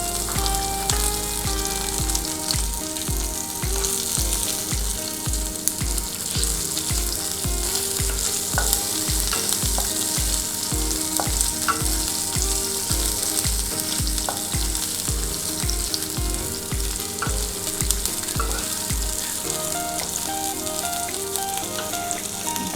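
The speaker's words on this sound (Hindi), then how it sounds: "now we just have to saute these" Chopped vegetables sizzle and fry steadily in a hot pan for upma, a continuous close hiss with occasional stirring clatter, loud and unbroken with no talking.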